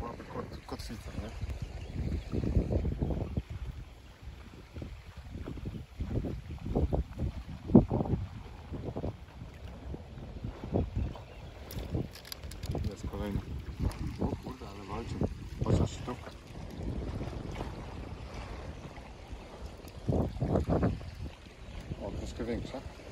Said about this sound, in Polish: Strasznie silny wiatr